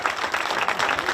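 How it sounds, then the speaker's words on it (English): An audience at a hospital ceremony in Nyeri breaks into brief, dense clapping, a rapid patter of many hands sounding close and fairly loud. "He needs a clap."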